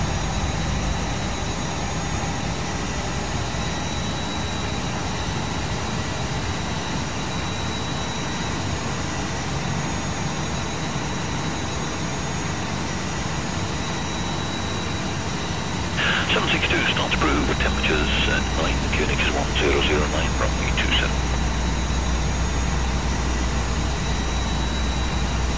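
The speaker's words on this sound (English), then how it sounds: "Starting engine 2." Jet engine number two spooling up in the Prepar3D flight simulator during pushback of an easyJet airliner, a steady low roar and hiss that swells into a louder rumble partway through, with voices talking over it.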